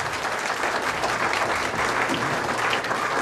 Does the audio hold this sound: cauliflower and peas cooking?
no